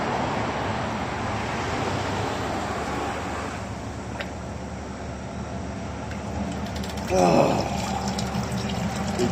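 Running water pours into a Blue Bowl gold concentrator washing Lake Superior beach sand concentrates, a steady close rush and trickle with a brief louder splash near the end, no talking.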